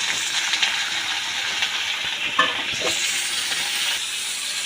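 Turkey berries (sundakkai) fry in a little hot oil, producing a continuous bright sizzle broken by a couple of soft stirring knocks.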